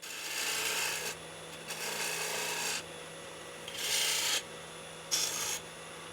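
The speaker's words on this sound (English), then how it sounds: "moved on to shape the bead foot a little bit more with a spindle gouge" A spindle gouge cuts a wooden bead foot on a spinning lathe, producing four bursts of bright, raspy scraping separated by short pauses over a faint steady motor hum.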